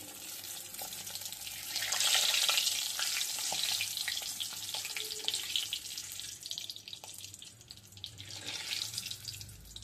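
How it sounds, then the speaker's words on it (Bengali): Egg frying in a pan in a home kitchen, with a steady sizzle and crackle that swells around the second and eighth seconds, heard close and alone without talk. "আগে ডিমটা একটু ভেজে নেই"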